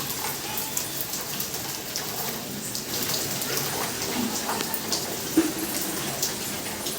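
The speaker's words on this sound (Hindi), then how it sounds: "सुबह सुबह धूप दे देती है, कपड़े सारे सूख जाते हैं, उसके बाद फिर 2:30-3 बजे से लेकर पूरे रात तक बारिश होते रहती है" Steady monsoon rain pours down outdoors, a dense continuous hiss of drops striking surfaces with occasional louder splashes, no voices over it.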